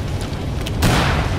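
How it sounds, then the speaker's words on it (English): A flashbang grenade goes off in the zombie shooter Killing Floor 2: a sudden loud, noisy blast that holds as a harsh ringing roar to the end, after a quieter stretch of in-game sound. "Flashbang."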